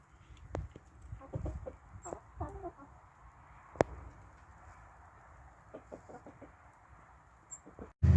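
Chickens clucking softly and intermittently nearby, scattered low calls with one sharper squawk, in a quiet outdoor setting.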